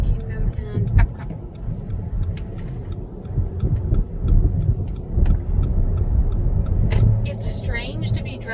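A car drives along Walt Disney World roads, a steady low engine and road rumble from inside the cabin, with people talking over it throughout.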